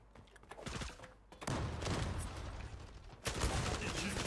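Precise gunfire in the online shooter Zula, loud bursts of shots in quick succession with a brief lull before the firing resumes and continues steadily.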